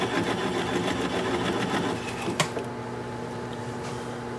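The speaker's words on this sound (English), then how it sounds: "I'm going to apply the bevel of the gouge against the bottom of the bowl" A wood lathe turns slowly with a steady mechanical whir and rapid clatter as a gouge cuts through the bottom of a bowl, then a sharp snap and the rhythmic cutting stops, leaving a quieter hum.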